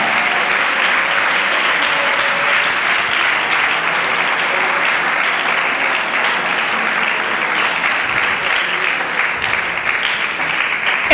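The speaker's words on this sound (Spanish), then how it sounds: "Dele aplausos a la gloria de Dios en esta" A church congregation at a Sunday service claps together in sustained, loud applause. The clapping stays dense and even throughout, with no pause.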